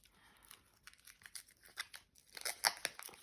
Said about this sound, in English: it takes me forever to get plastic off